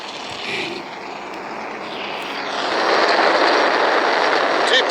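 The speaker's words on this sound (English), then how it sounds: "Flying crew on board Dragon and Falcon 9, and look at them go." A SpaceX Falcon 9 rocket lifting off with a crewed Dragon capsule gives a broad, continuous roar that swells louder partway through, heard from a distance under commentary.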